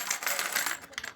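Coins handled together, big and small pieces, make a steady patter of light metallic clinks and jingles heard close up for about a second.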